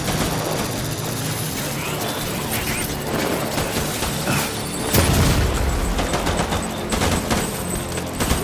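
Frag grenade blast in the video game Death Stranding on very hard difficulty, a heavy boom about midway that rises out of a dense, continuous wash of combat noise, rattling gunfire and mechanical rumble.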